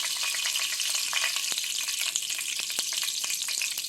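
Fenugreek seeds drop into hot oil for an eggplant and peanut curry, giving a loud, continuous crackling sizzle with scattered sharp pops close by and no voices.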